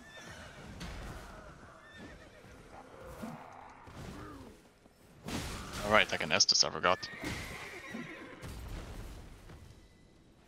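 Horse neighing and whinnying in the video game Elden Ring, with hoof clip-clop and combat crashes around it; a loud whinny bursts out mid-clip amid battle noise while someone talks over the action.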